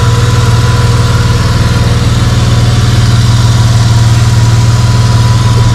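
An Australian car's petrol engine idles steadily up close, a loud, even mechanical drone with a constant low hum and no voices over it.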